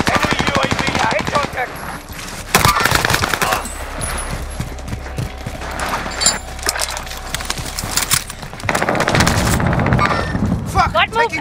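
Automatic rifle fire in the Call of Duty Warzone battle royale, sustained loud rattling bursts with overlapping shots and a low rumble, continuing in waves with brief gaps.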